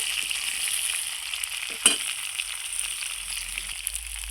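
Potatoes and bay leaves frying in oil, a quiet, steady sizzle with one brief clatter near the middle.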